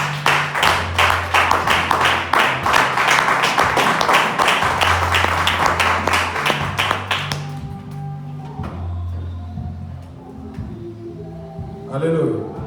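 A church congregation claps in a brisk, steady rhythm with loud voices cheering over it, then the clapping stops and speech and lighter sounds continue.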